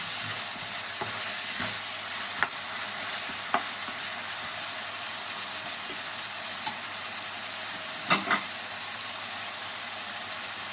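Garlic sautéing and browning in a pan as the base for a beef stew, a steady soft sizzle with occasional light clinks of a spoon against the pan, no voices.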